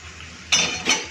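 Sooji batter mixed in a metal pot, two short close clinks and scrapes of a utensil against the pot after a quiet stretch, no talking.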